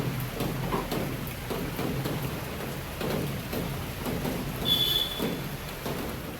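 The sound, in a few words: heavy rain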